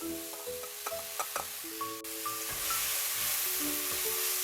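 Chopped enoki mushrooms stir-fry in olive oil in a heated pan, making a quiet sizzle that rises into a steadier hiss, with some faint tonal ringing from the pan early on.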